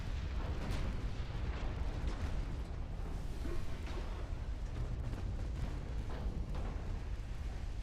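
Torpedoes slam into warships during a naval battle in the Ultimate Admiral Dreadnoughts strategy game: a dense, continuous roar of heavy blasts and rumbling booms, with sharper cracks scattered throughout and no voices.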